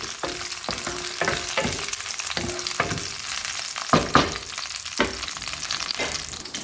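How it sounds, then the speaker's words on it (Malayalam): Dried red chillies heat and fry in a pan for kara chutney, a steady nearby sizzle broken by a series of sharp stirring knocks and scrapes, with no talk. "നമ്മുടെ മുളകൊന്ന് നല്ല രീതിയിലൊന്ന് ചൂടാക്കി എടുക്കണം"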